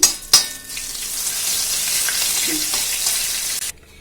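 Spices tempering in hot oil for a Kerala moru curry, with chilli powder, sizzle and fry in a steady, close, loud crackle that carries with no talk until it cuts off abruptly near the end.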